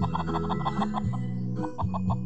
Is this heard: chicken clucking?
yes